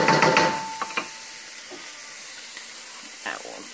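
Garlic, onions and ginger sizzle in hot oil in a pan for beef fried rice, opening with a loud burst of frying that quickly settles into a softer, steady hiss with a few light clicks.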